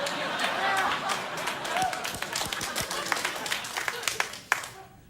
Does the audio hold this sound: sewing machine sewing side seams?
no